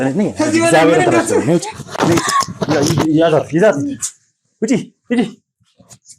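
A dog barks and whimpers indoors, its yelps and whines mixed with a person talking loudly, followed by a few short, sharp cries in the quieter moments near the end.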